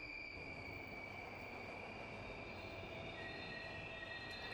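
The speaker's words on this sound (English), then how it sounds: "Sparks fly as the train slams on its brakes." Train brakes squeal continuously in Steins;Gate Elite, sustained high-pitched screeching lines held over a dense, loud rail rumble for the whole stretch, with no pause or letup.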